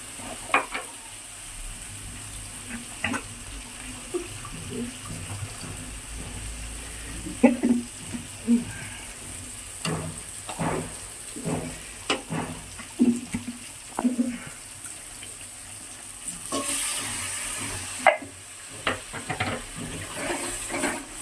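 Masala with cashew-raisin paste being sautéed and stirred in a pan, giving a steady soft sizzle broken by scraping spatula strokes and clinks, close by with no talk.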